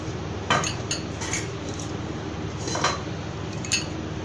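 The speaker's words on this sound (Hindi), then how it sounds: "जो हमने ग्रीन वाली चटनी है बनाई थी वो वाली चटनी हम लगा देंगे इस पर" Knife or spoon clinks and scrapes against a plate while green chutney is spread on bread for a breakfast health sandwich, a few light metallic taps over a low steady hum.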